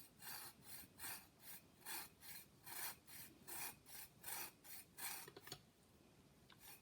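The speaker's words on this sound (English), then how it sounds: "So now we're gonna zest it." A lime is zested on a grater in a home kitchen, about a dozen quiet rhythmic rasping strokes in steady succession, close by, ending in a few soft taps.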